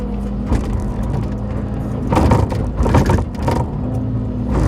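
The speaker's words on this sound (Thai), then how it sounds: "เสียงดังเลยเด้อเพื่อนๆ รถเก่าแล้ว เก่าแล้วเก่าแล้" A heavy old six-wheel truck engine idles roughly and revs up twice in loud bursts, with rattling mechanical noise throughout.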